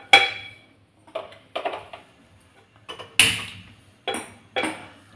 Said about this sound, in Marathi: त्यासाठी आपण गॅसवर पॅन ठेवायचा आहे